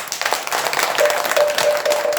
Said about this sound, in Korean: 박수도 한번 치고